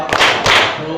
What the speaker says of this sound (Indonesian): Tepuk satu, Satu. tepuk dua.